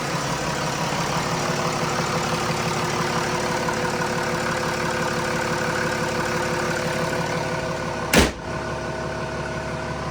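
A Mercedes turbo diesel car idles steadily up close with an even, loud, clattering diesel throb throughout, interrupted by one sharp brief knock near the end.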